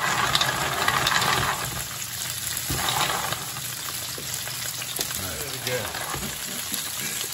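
Clams dropped into simmering fra diavolo sauce bubble and sizzle in a bright, steady crackle, with a voice talking over it.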